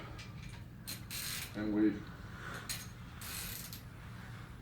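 Mechanical ratcheting and clicking from a jack bolt, or push bolt, being turned during a new seal install, close and moderately loud, with brief speech mixed in.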